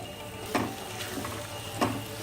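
A spoon stirs mango pieces into a lotus stem pickle, giving two soft, brief scraping strokes over a quiet background.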